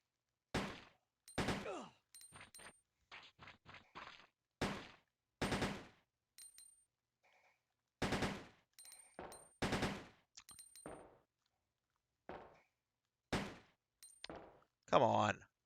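Gunfire in the video game Resident Evil 2 comes as loud, sharp bursts of shots spaced through silence, with a rapid rattling volley near the end.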